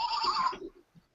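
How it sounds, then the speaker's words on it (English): A sheep toy gives a short, wavering bleat, close and fairly loud, followed by a soft murmur, near silence, and a sharp sound at the very end. "Oh, it's a sheep toy."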